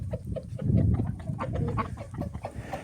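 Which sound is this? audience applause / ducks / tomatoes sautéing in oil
ducks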